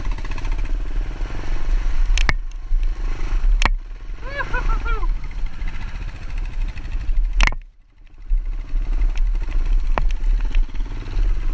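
A heavy Kawasaki KLR650 dual sport motorcycle on dual sport tyres rumbles steadily while riding over slippery ground, its engine loud and close with a few sharp clattering knocks and a brief dip near the end.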